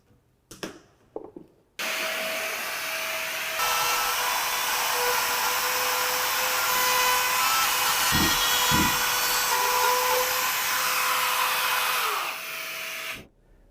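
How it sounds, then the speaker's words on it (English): A rotary drywall cutter bores an opening in drywall for an outlet box, giving a loud, steady high-pitched whine for about eleven seconds, with a few knocks beforehand and brief thumps partway through. "here is making a cut into drywall here for an outlet box."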